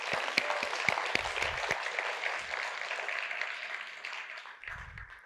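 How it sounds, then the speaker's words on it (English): An audience at a conference talk applauds: dense, steady clapping from many hands close by, fading slightly toward the end, with a few sharper individual claps early on. "So I ask you a big round of applause for that team."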